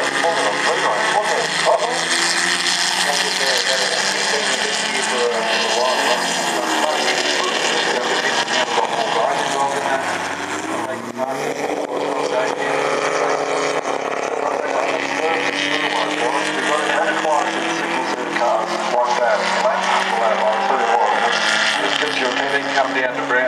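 Historic front-engine Formula 3 race cars howl past on a circuit in a steady wash of engine noise, loud and continuous throughout, with a commentator talking over it.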